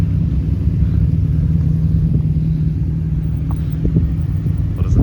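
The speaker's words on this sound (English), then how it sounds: "There's heaps of cars rolling up right now." Cars arrive at a car meet where 86s, a bus, an Integra Type S FL5 and a Golf are gathered, a steady low engine rumble and road noise hanging over the lot throughout, with a few faint clicks and no talk.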